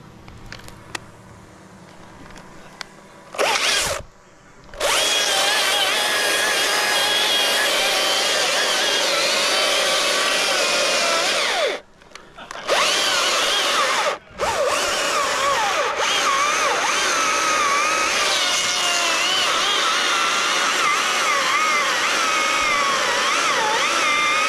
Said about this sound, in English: Husqvarna 540i battery powered saw